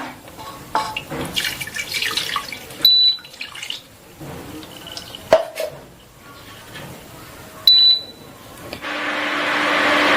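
Water poured from a tap or jug into the pot of an electric stove, with splashing bursts, clinks of the pot, then a rising steady rush of filling at the end, close and without talk.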